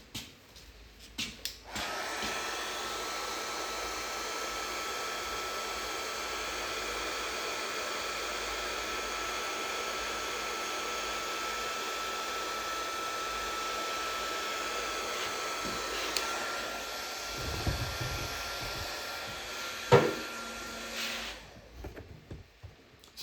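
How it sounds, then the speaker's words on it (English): Heat gun blowing steadily while drying fresh clear coat on a pinball playfield, a loud continuous hiss-like roar that runs for about fifteen seconds before cutting out, followed by brief handling noises. "grab my heat gun real quick."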